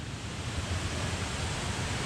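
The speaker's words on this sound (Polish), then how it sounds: "Woda na kawę już się gotuje." Water for coffee heating on a camp stove set on a flat-topped rock in a woodland, giving a steady, close hiss and roar of boiling with no talk.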